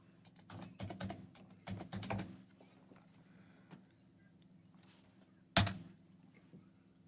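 Computer keyboard typing in bursts of quick clattering keystrokes, moderately close, with pauses between runs and one sharper knock near the end; no one speaks.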